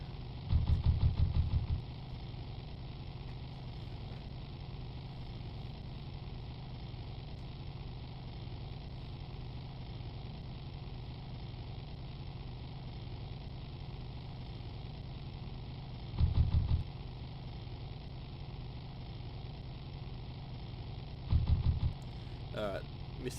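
In the video game Full Throttle, a motorcycle engine idles in a steady low, even hum that runs throughout, broken by a few brief louder bursts.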